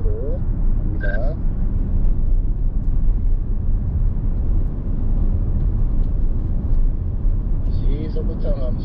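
A KIA car gently accelerates on a driving circuit. Heard from inside, it makes a steady, heavy low rumble of engine and road noise, with brief fragments of a voice near the start and end.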